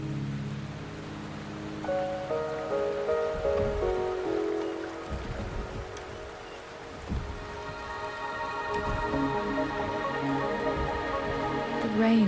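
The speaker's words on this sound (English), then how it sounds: "The rain is subsiding, and the sky will soon clear." Rain in the video game Wuthering Waves, a steady soft patter on surfaces under melodic tonal music and sound effects, with a few low thumps mixed in.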